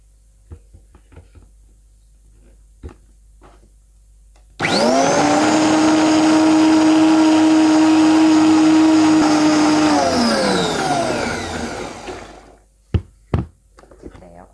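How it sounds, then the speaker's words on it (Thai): A blender whirs loudly and steadily for about eight seconds as it purees egg tofu ingredients of soy milk and egg, then winds down; light kitchen knocks and clunks come before and after. "แล้วเราจะปั่นส่วนผสมทุกอย่างให้เข้ากันนะคะ"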